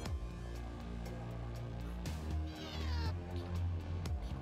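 A cat meows several times, loud and close, its drawn-out cries sitting over a steady low rumbling background.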